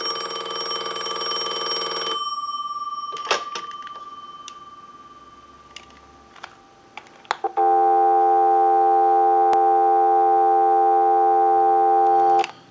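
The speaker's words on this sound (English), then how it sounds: "we'll give you some dial tone" A ring burst fades out, a few clicks and taps follow, then a steady continuous telephone dial tone hums loudly for several seconds.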